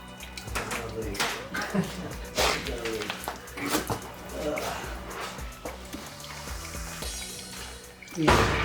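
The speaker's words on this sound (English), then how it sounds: "there's loads of drips" Steady dripping and splashing of fluid from a Mazda MX-5 Miata NC during an engine swap into a bucket, irregular drops over a wet background with some clattering.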